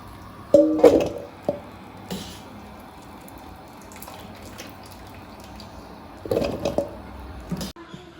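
Blanched bilimbi fruit being scooped out of water in a pot for pickle, with a few brief watery splashes and scrapes separated by quiet stretches, fairly close.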